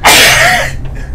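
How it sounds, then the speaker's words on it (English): A single loud, close sneeze bursts out sharply and trails off within about a second, heard alone during a video game session. "I was laughing and sneezing."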